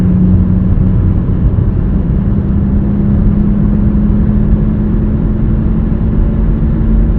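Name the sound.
2020 Nissan Rogue driving faster on highway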